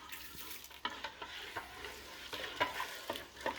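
Lightly crushed black peppercorns being stirred into a peameal bacon brine, with repeated scraping and clinking strokes in an uneven rhythm, close and moderately quiet, with no voices.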